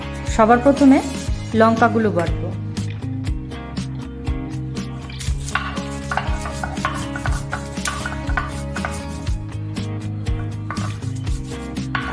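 Peeled garlic ground by hand on a traditional shil-nora grinding stone for kalonji paste, heard as repeated close rubbing and knocking strokes in an uneven rhythm, with a few brief louder tones near the start.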